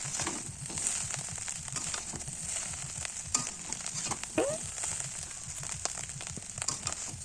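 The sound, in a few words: stirring chowmein with chowmein masala and Maggi masala in pan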